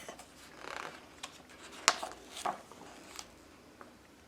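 A voice imitates a rotating lawn sprinkler with a faint series of short, breathy ticking bursts, spaced roughly evenly apart with quiet gaps between them.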